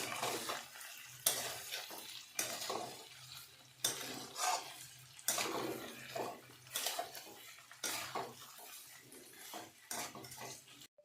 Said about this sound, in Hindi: तो यहाँ पर मैंने आलू गोभी की सब्ज़ी छोंक दी है, आलू गोभी और मटर।